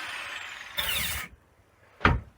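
Power tool cutting through a metal radiator in short bursts, a whining grind that stops abruptly, then after a pause a single brief harsh burst, close and loud with no talk.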